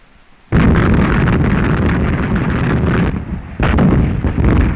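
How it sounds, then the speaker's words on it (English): Loud, continuous artillery bombardment from the World War I trench film All Quiet on the Western Front: dense rumbling blasts and bursts that break briefly, then resume at full force. "Bombardment."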